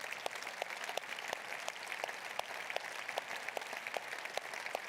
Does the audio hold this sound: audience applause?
yes